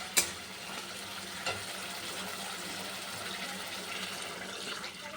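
Water is poured into spice paste frying in oil in a pan, starting with a sharp splash and settling into a steady hiss and sizzle, with a brief clatter partway through.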